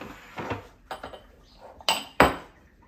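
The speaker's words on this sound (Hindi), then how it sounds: "कैसे अदरक लहसुन कूट रहे हैं आप" A pestle pounds ginger and garlic in a home kitchen, giving a handful of irregular, sharp knocking thuds with metallic clinks, close by, with quiet gaps between strikes.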